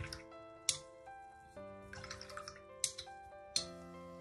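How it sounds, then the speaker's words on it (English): A paintbrush is swished and tapped in a water pot while painting a colour wheel, making a few quiet drips and clinks over a faint background tone. "And give our brush a rinse."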